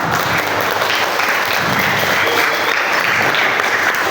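An audience at a school orientation event applauds steadily and loudly for the whole stretch, a dense, even wash of many hands clapping with no gaps.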